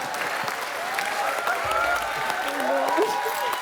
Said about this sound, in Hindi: सुगंधा के लिए जोरदार तालियां